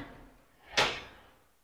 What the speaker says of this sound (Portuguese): Olha que porta linda, uma porta enorme.